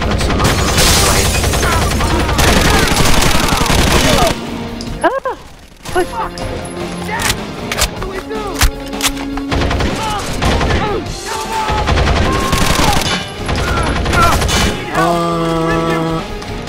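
Gunfire in the video game Rainbow Six Vegas 2, a loud mix of rapid shots and crashing impacts running through most of the stretch, with a player talking over the action.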